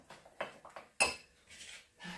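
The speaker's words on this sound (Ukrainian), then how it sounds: "Трішечки змішуємо горчицю із медом." A spoon clinks and scrapes against a bowl while mustard is stirred into honey, a series of light, close taps with one sharper clink partway through.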